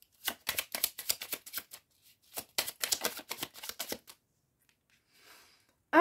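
Oracle cards snap and flick in quick bursts as they are shuffled and turned over, close and crisp, followed by a near-silent pause and a faint rustle.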